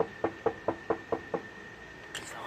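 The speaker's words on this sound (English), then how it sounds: "I'm getting ready to knock on her door" Six even knocks on a house door, close and fairly loud, in a quick steady rhythm, followed by a faint brief clatter.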